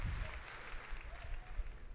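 Crowd applause from the BattleBlock Theater video game, a faint, brief burst of clapping and cheering low in the mix under game sounds.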